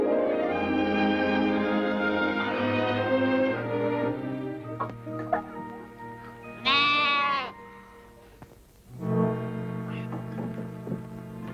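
Lambs bleat repeatedly from behind a stove, their wavering cries rising and falling close by and fairly loud, with a brief pause partway through before the bleating resumes.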